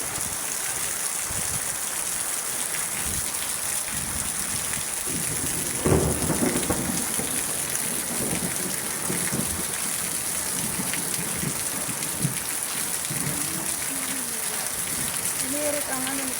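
Heavy rain pours steadily off a roof at night, a dense continuous hiss with rumbles of thunder, while people talk now and then over the downpour.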